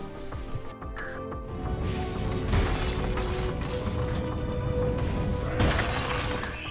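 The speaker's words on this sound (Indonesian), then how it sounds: "Sang kapten pun berinisiatif untuk memecahkan kaca jendela" Window glass smashes in a film disaster scene during a fire, a sharp shattering crash followed by a sustained dense rumble and crackle of debris, with another sharp impact near the end.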